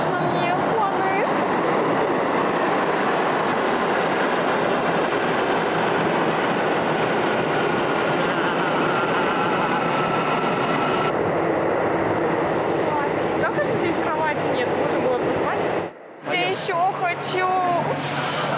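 An underground train arriving rumbles steadily with a broad, continuous roar and rail clatter, then a brief drop near the end as the noise cuts out and resumes.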